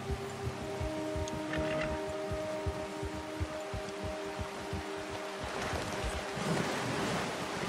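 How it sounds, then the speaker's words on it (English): Horse wading through water in Red Dead Redemption 2, a steady wash of splashing and sloshing with rhythmic hoof movement through the shallows, continuous and moderately loud with no talk. "Oh yeah, I need to ride my horse through some water to clean it up."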